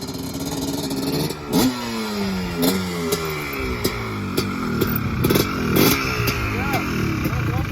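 A Yamaha Banshee two-stroke motorcycle revs repeatedly up close, its sharp rising blips punctuated by crackling bursts as the throttle snaps open and closed, with people talking over the engine.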